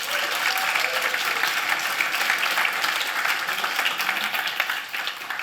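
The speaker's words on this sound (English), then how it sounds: "Let's give a round of applause to the Emberfest team for putting this together" An audience applauds the Emberfest team at a community tech event, dense steady clapping from a sizeable crowd, fairly close and continuous for the whole stretch, easing slightly near the end.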